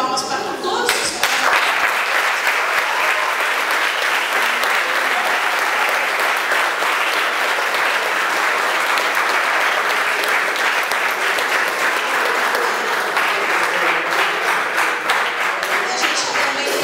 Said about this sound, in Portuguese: com ele nós vamos dar uma salva de palmas para todos os pais